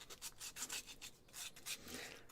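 Worn, patchy sandpaper rubs back and forth across a wooden aviator model to smooth its edges, giving a steady run of close, soft raspy strokes with no talk.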